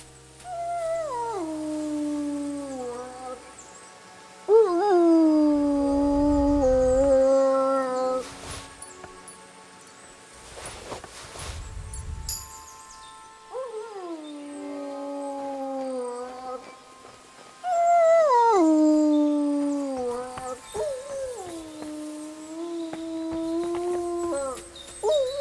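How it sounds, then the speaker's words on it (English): A dog howls in the video game Kingdom Come Deliverance 2, long, loud, wavering howls repeated with short gaps, close by, while someone speaks briefly between them. "No wonder the dog's howling like mad."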